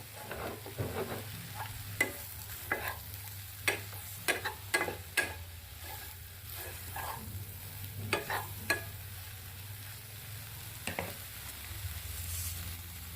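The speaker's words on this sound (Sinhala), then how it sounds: "ඒ වගේම තමයි තියෙන තෙල් වලින් මේ සෝයා ටිකත් හොඳට තෙම්පරාදු වෙන්න දෙන්න." Soya pieces stirred and frying in oil in a pot, a soft continuous sizzle broken by sharp scraping and clacking strokes of a spoon at irregular intervals, no talking.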